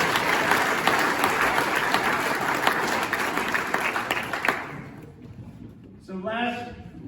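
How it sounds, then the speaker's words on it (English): Audience at a chamber of commerce awards night applauds loudly and steadily for several seconds, then the clapping fades out and a voice begins speaking. "So let's give a big round of applause."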